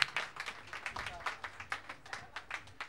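A crowd at a ski club gathering claps for its behind-the-scenes staff, a patter of rhythmic hand claps rising and falling in bursts, with a voice talking over it.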